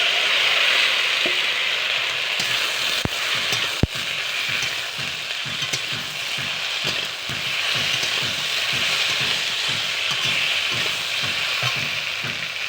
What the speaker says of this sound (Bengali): এই যে লতিগুলো আমার হালকা হালকা ভাজা হয়ে গেছে, এবার ভেজে থাকা আলুগুলো দিয়ে দেব